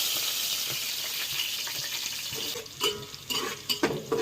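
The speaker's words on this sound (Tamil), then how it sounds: "வெங்காயம் வந்து நல்லா ப்ரௌன் கலரில் வதங்கட்டும்" Onions sautéing in oil for pulao, a steady hiss of frying with scrapes and clinks of stirring that grow more distinct toward the end.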